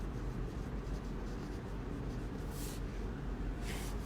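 Pen writing engrosser's script calligraphy on paper, with soft continuous scratching strokes close by, faint and steady over low background hiss, and no speech.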